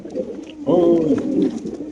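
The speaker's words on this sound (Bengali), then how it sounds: "এটা হলো বার্মিংহাম রোলার কবুতর" A Birmingham Roller pigeon coos once in a near, warbling burst in the middle, with quieter background murmur before and after.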